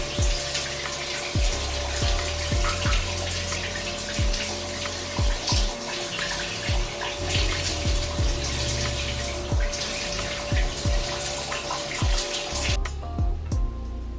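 Shower water runs steadily in a bathroom, a continuous loud hiss and splash, with soft irregular low thumps scattered throughout as the legs are shaved.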